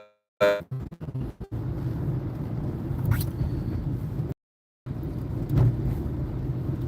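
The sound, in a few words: inside a moving car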